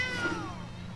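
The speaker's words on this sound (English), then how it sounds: "Yes, that's a cat." A cat meows once in a drawn-out, wavering cry, close and fairly clear over a steady low background hum.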